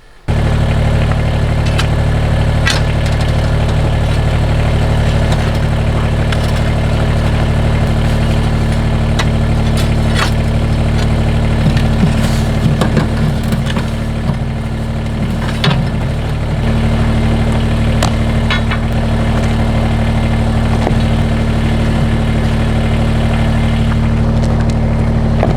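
A Kubota BX compact tractor engine runs continuously for about 25 seconds at a loud, close, steady idle with a strong low-pitched hum and faint rattles, straining slightly near the middle while lifting a large boulder.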